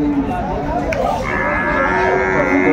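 A Sahiwal bull calf lows nearby with a drawn-out moo, loud and close, over a background of ambient noise at a cattle market in Dinajpur.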